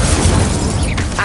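Blasting spell explosions from the Confringo curse in Hogwarts Legacy, a dense rumbling barrage of booms and bursts filling the short stretch, loud and close with a sharper crack near the end.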